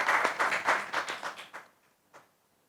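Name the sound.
audience applause at song launch event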